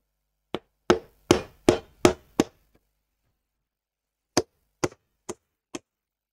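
Steel chisel chopping out a mortise in a wooden workbench being turned into a desk: a quick run of six sharp, close strikes, a pause, then four more spaced knocks, with no talk.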